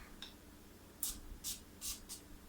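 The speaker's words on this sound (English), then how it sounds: "Lightly spray the top." Four short hissing bursts of a spray bottle misting rubbing alcohol onto the top of homemade soap, close and distinct, separated by brief pauses.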